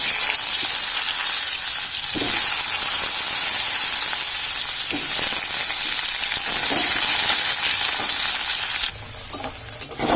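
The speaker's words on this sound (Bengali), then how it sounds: "এবার আলুটা দিয়ে দিই।" Potatoes frying in mustard oil with cumin, bay leaf and dried chilli, a loud steady sizzle with stirring scrapes throughout that drops slightly near the end.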